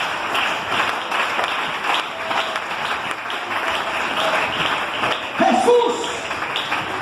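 A church congregation claps for several seconds during a Spanish-language evangelical sermon, with dense, steady applause that stays fairly loud throughout and voices mixed in.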